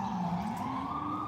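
Emergency vehicle sirens sound outside, a steady wailing tone that slowly rises, loud and continuous with no voices over it.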